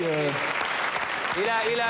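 Brief burst of audience applause on a French radio show for a team member, dense clapping mixed with cheers and voices talking over it.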